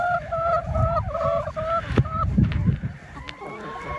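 Hens in a field on a December morning, molting, making a run of loud, close honking calls, then quieter scattered clucks and chatter from the flock.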